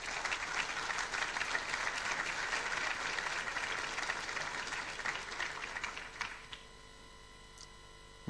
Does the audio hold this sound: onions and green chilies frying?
no